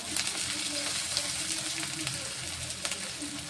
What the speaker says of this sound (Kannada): ಚೆಂದಾಗಿ ಎಣ್ಣೆಗೆ ಫ್ರೈ ಮಾಡ್ಕೊಂಡ್ವಿ. ಹಸಿಮೆಣ್ಸಿನ್ಕಾಯಿ ಪೂರ್ತಿ ಖಾರ ಎಣ್ಣೆಗೆ ಬಿಡ್ಬೇಕ್ರಿ.